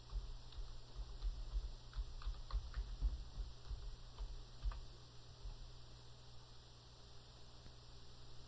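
Faint keyboard typing for data entry, a steady run of soft key clicks over a low background hiss that thins out toward the end.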